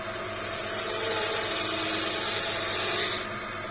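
A hand tool cuts a 45-degree bevel along a wooden puzzle ball, giving a steady rasping scrape that swells slightly and then stops abruptly near the end.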